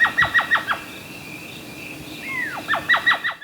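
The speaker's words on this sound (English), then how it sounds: "the owl responds to a series of recorded calls" An elf owl in the Chiricahua Mountains forest on a summer night gives rapid bursts of high, chattering yelps at the start and end, with a fainter whistled call between them over a steady insect hiss.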